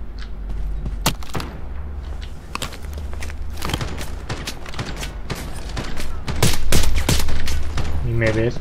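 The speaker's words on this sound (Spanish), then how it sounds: "Disparando a mí." Rapid gunfire bursts and single shots in the video game Lost Light, loud and close with footsteps and thuds between volleys, under a player's voice.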